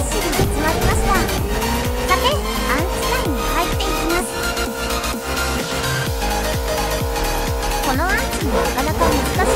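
Car driving in the battle royale mobile game Knives Out (荒野行動), with engine drone and repeated tire squeals and skids, loud and continuous, mixed with game music and effects.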